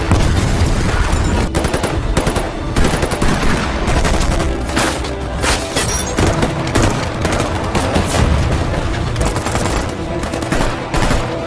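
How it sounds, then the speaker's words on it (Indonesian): Dense, continuous automatic gunfire and bursts of shots in a loud gunfight between SWAT officers and armed robbers in the action film 211, with booms mixed into a constant wall of sound. "Mereka pun menerobos masuk dan terjadilah baku tembak yang sangat seru."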